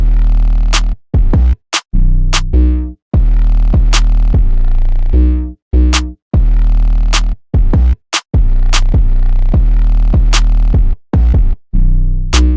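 Deep booming 808 bass notes thumping in a choppy rhythmic pattern, each hit sliding downward with crisp clicks between, loud and upfront.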